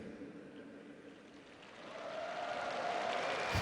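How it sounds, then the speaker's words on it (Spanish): Applause from German students of several schools at Pope Francis's general audience, a broad, steady wash of clapping from a large crowd that swells slightly louder toward the end. "ahí aplauden los alemanes, los estudiantes de estos colegios, estas escuelas a las que acaba de saludar"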